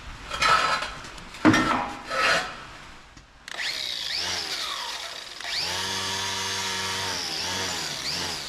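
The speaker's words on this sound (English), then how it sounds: "it's sanding down really nice." A power sander grinds and whines against the metal chassis of a 1956 VW Beetle, starting with short scraping bursts before settling into a sustained, close, tonal whir.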